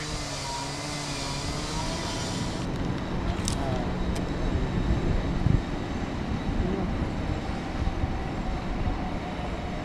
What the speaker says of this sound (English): There's the national trains running backwards and forwards on the slow lines.